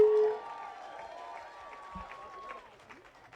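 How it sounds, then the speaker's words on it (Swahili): Church congregation applauding for a bishop, a steady patter of clapping across a crowd, with an amplified voice and a singing tone over it. "Makofi bado yaendelee jameni."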